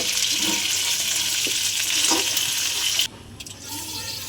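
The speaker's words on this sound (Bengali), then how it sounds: "চিংড়ি মাছগুলো দিয়ে দিলাম। চিংড়ি মাছটা ভাজা হয়" Prawns coated in salt and turmeric fry in a pan with a loud, continuous sizzle that drops off sharply after about three seconds, leaving quieter background kitchen noise.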